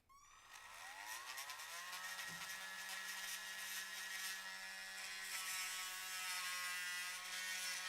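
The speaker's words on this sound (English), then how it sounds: "Let's go ahead and sand some of this down while the glue is drying." A small power sander works on a toy dinosaur part, a steady high-pitched motor whine with a brief rising spin-up at the start, continuing loudly and evenly with no talk.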